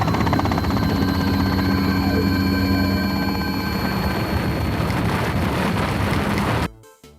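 Cartoon helicopter rotor blades thrum in a loud, steady drone that holds for about six seconds before cutting off abruptly.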